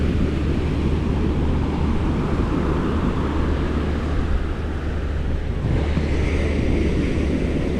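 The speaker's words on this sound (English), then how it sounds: "we got some waves today" Ocean surf rolling onto an Outer Banks beach in fall, a continuous broad wash of breaking waves mixed with steady wind buffeting the microphone, with no voices.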